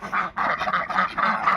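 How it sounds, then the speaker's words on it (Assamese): White Pekin ducks give a continuous run of nasal quacks and honking calls, close and fairly loud, overlapping in a steady chorus with a brief pause near the start. "আমাৰ হোৱাইট পেকিং হাঁহবিলাক"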